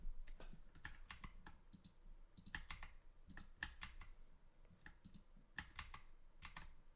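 Rapid clacky keystrokes on a computer keyboard, bursts of typing with short pauses, close and fairly quiet with no talking.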